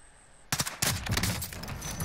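Gunfire in Call of Duty: Modern Warfare: after a quiet start, two sharp, loud shots ring out about a third of a second apart, followed by dense in-game rumble and echo.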